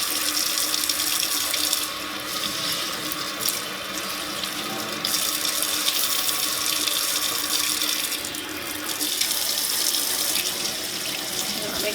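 Steady tap water runs into a sink while a makeup sponge is rinsed under the stream, a constant close hiss with only small shifts in level and no voices.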